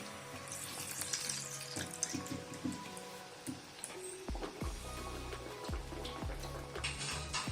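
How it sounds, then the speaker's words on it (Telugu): Ragi burelu, finger-millet sweet dumplings, frying in hot oil, a soft continuous sizzle with intermittent bubbling and light spatter, fairly quiet and close. "ఇలా ఆయిల్ హీట్ ఎక్కిందండి. ఇప్పుడు మనం బూరె వేసుకుందామండి."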